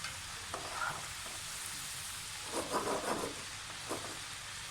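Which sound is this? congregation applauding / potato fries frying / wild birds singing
potato fries frying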